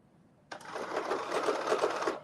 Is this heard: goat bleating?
no